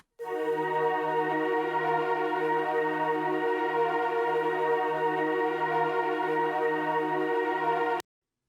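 Ambient Pad 3 synth pad holds one long, even note for about eight seconds, full and steady with a low droning undertone, then cuts off abruptly.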